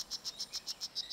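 Poison dart frog males calling in a territorial setting: a rapid, evenly spaced series of about nine high, bright chirping notes, close and clear over a quiet background.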